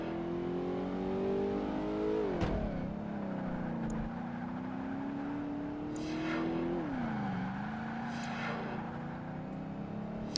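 Racing car engine in Project Gotham Racing 2, droning steadily at high pitch and rising and falling through long gears for the whole stretch, with one sharp shift dip and brief swooshes of passing cars.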